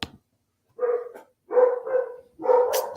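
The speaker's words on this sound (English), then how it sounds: "Sorry if y'all hear my dogs barking." Several dogs bark in short bursts indoors, reacting to a car driving past outside; three loud clusters of barks follow one another with brief pauses between them.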